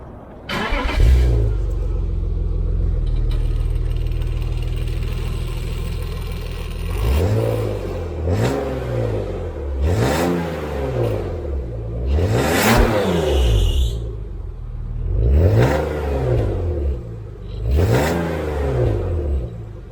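A BMW 328i E36 inline-six engine cranks and starts, settling into a steady idle, then is revved repeatedly in five or six sharp rising-and-falling bursts, loud and close.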